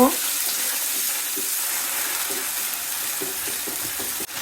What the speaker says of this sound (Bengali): ব্লেন্ড করে রাখা পেঁয়াজ একটু নেড়ে নিব